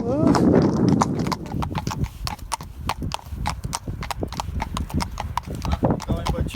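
A horse being ridden on an outing, hooves clip-clopping in a steady, close rhythm over hard ground, with people talking over the hoofbeats and a brief snort near the start.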